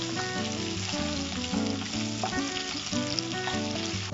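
Chicken chintamani frying in hot oil, a steady close sizzle with faint stirring, continuous and without talk.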